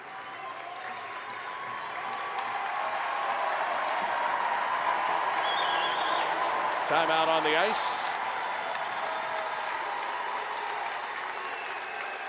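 A packed ice hockey arena crowd roars and claps steadily through a late-game timeout at a high school district final, a dense sustained wash of cheering with a whistle-like tone and an announcer speaking over it.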